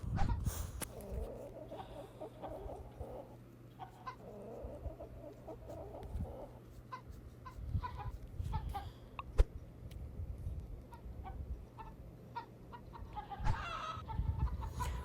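Farm chickens clucking and squawking as they are herded into a coop, scattered calls near and far over a soft outdoor background, fairly quiet overall.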